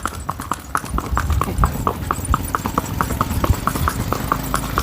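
Sindhi mare walking on a hard surface, a steady run of sharp, close hoof clip-clops in a brisk rhythm, with faint background noise and no talk.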